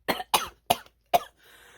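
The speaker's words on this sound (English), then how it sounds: "I'm still crying from that cough." A person gives four sharp, separate coughs in quick succession, close and fairly loud, followed by a faint breathy trailing sound.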